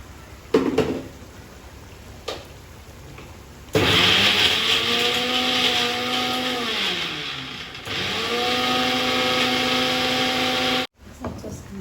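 A mixer grinder whirs loudly as it grinds cashews into a paste for a function-style chicken curry, running in two long bursts with a brief pause between, after a few quiet knocks at the start.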